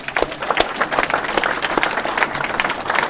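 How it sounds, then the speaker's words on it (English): Audience applause at a startup networking event in Los Angeles, a crowd clapping steadily for a few seconds with individual sharp claps standing out. "let's give Jason another round of applause."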